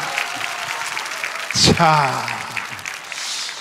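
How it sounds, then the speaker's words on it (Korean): A congregation applauds at a church sermon event, with steady clapping under a voice as he speaks briefly over it. "박수 하겠습니다"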